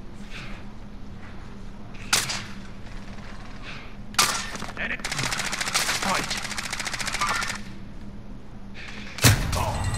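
Sharp gunshot cracks from a sniper in a video game, a few loud isolated reports spaced seconds apart with a rapid burst in between, over a constant droning game background.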